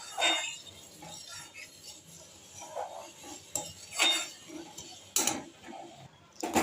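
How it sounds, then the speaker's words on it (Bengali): Mango and milk stirred together in a cooking pot for mango yogurt, a spoon scraping and clinking against the metal in scattered, uneven strokes, moderately close with no talk. "ভালো করে নাড়তে হবে এইভাবে সুন্দরভাবে, যাতে আমটা ওর সাথে মিশে যায় আর দুধটাও একটু ঘন হয়ে যায়"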